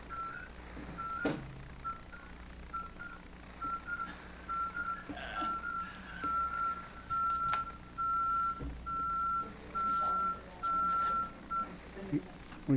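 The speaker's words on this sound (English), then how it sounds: "We can hear a truck backing up." A truck backing up outside a town council meeting room sends a steady series of faint, evenly spaced reverse beeps under intermittent talk and room noise, with a faint constant electronic tone alongside.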